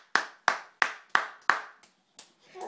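A child claps hands five times in an even rhythm, sharp and close, followed by a few softer, uneven claps and a faint voice.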